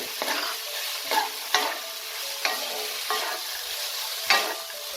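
Green peas tossed into a frying pan of dalia khichuri, producing a close, steady sizzle broken by several sharp spatula scrapes and stirs against the pan.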